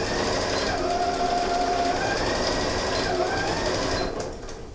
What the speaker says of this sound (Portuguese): reforço da costura.